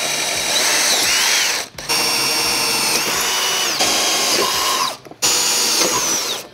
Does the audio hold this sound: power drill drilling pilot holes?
yes